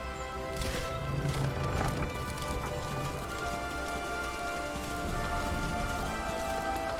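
Horse mount hooves in Final Fantasy XIV, a steady run of soft clip-clop steps over a continuous game soundscape with music and ambient layers, moderately loud throughout.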